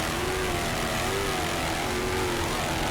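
A helicopter flies over an offshore powerboat race along the Miami Beach shoreline, a loud, steady engine and rotor drone with a wavering tone that fills the whole clip, with no talking.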